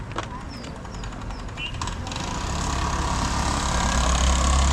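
A vehicle engine runs with a low steady rumble that grows louder and heavier over the last seconds, with faint background sounds early on.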